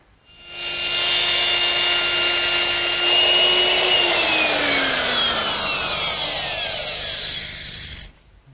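A power router cuts a rabbet along the back edge of a wooden Shaker wash stand countertop, a loud steady whine that holds for several seconds, then drops in pitch as the cut slows, before cutting off abruptly.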